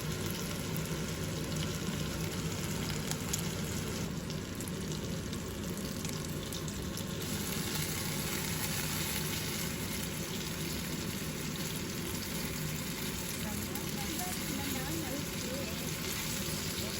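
Food frying in a very small amount of oil in a pan, a steady soft sizzle running continuously at moderate level, with faint kitchen noise and light handling sounds over it.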